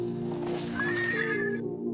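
A horse neighing as a sound effect, a loud, close whinny that rises and then trails off, with a light clatter of hooves underneath.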